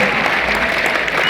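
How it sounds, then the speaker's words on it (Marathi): An audience at an academy gathering claps loudly for a friend, a dense steady burst of applause filling the whole moment. "एकदा आपल्या मित्रासाठी जोरदार टाळ्या आपल्याकडे अपेक्षित आहे"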